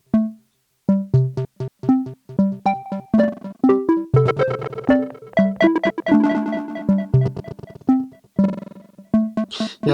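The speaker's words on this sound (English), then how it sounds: "so you can hear they're pretty choppy right now, the delays." Choppy, stuttering delay repeats from a ZOIA modular effects pedal running the Echolalia patch, with short plucked or struck tones chopped into rapid bursts of varying loudness throughout, no talking.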